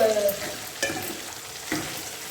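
Eggplant fries in a kadai for a green gram and eggplant kara kuzhambu, giving a close, steady sizzle broken by a few scraping stirs. There is a brief tonal sound at the start.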